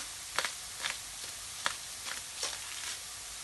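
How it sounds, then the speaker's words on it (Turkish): Soft, steady sizzle of onions frying in oil, broken by a few sharper crackles and stirring scrapes at irregular intervals. "Soğanımızı kavuralım."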